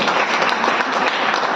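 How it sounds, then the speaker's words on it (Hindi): Applause from an audience at a business training session in Nainital, a dense, steady patter of clapping across the whole moment with no talk over it. "बार जोरदार तालियां हो जाए सर के लिए।"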